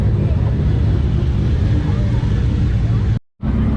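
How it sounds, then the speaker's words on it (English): A Toyota Supra's engine runs in a loud, steady low rumble close by, then cuts out abruptly for a moment before resuming. "The Supra's nice to have running."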